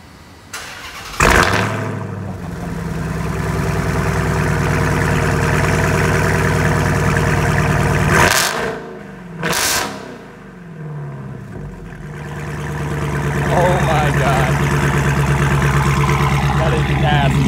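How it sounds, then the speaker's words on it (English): A Hummer's engine cranks and roars to life, settling into a loud, deep idle; the throaty Hellcat exhaust with a Borla blips a couple of times, then keeps rumbling. "That's a Hellcat exhaust with a Borla. It sounds mean."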